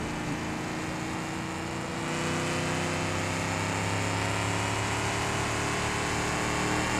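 A truck engine in the BeamNG driving game hums steadily at high revs, a constant buzzing drone that climbs slightly in pitch and stays loud and close throughout, with no talking.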